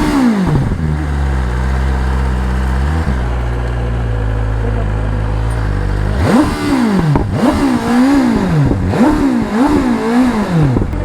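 A BMW S1000RR Pro superbike engine idles steadily, then blips through a string of sharp revs that rise and fall in quick succession, loud and close outdoors in a village setting.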